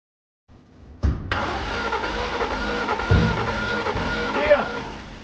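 A car engine cranks over on the starter during a compression test on the second cylinder, which shows no compression. It is a sustained, loud, even cranking that starts abruptly and drones steadily to the end.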